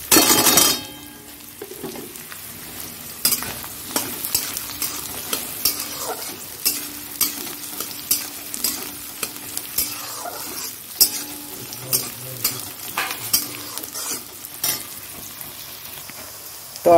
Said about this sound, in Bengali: পেঁয়াজটা দিয়ে দেবো।